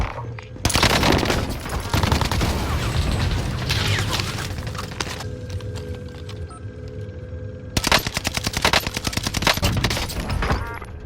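Gunfire in a video game: loud, rapid bursts of automatic shots and booming blasts, close and continuous, with a short lull of mechanical clicks and a steady tone before another fast volley.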